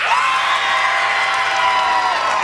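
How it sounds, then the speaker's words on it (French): A television studio audience cheers and whoops in a loud, sustained roar of voices, dense and close, with shouting layered over the crowd for the whole span. "Faites-moi les applaudissements de Mini-Pot"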